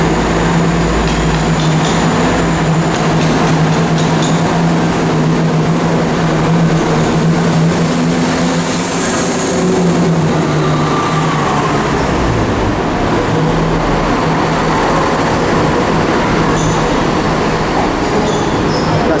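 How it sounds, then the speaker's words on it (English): Chiltern Railways unit 168109, the 12:12 service to London Marylebone, departs Birmingham Snow Hill station with a loud, steady, close rumble and roar that fills the whole stretch, with no talking. "Departing out as the final train in this video, it's the 1212 Chiltern Railway service to London Marylebone"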